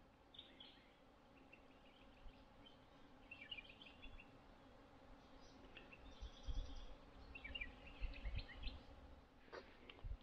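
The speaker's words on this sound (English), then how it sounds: "you can hear all the bees in the background and the birds." Bees buzz faintly beside a river while birds chirp in scattered short calls, the quiet outdoor scene swelling with occasional soft low rustles toward the end.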